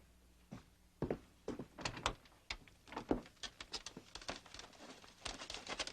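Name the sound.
door being opened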